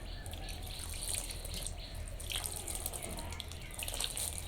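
Water is poured with salt onto about 3 kg of rice being prepared for puffed rice, making a faint, steady trickling and splashing that runs unbroken throughout.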